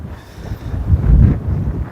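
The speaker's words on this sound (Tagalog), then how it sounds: "Medyo malakas nga lang ang hangin." Strong outdoor wind buffets the microphone in the Philippines just before a DJI Neo drone is flown, a low, rumbling roar that swells and eases over two seconds with no other clear sounds.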